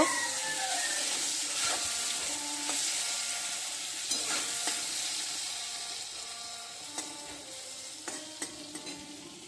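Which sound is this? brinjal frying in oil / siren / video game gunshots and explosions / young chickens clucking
brinjal frying in oil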